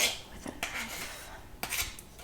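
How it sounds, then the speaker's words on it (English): A knife scrapes bits of cookie dough off a spoon up close, giving a few short metallic scrapes and clinks at an uneven pace with quiet gaps between them. No one speaks. "just gonna scrape the little bits off the spoon"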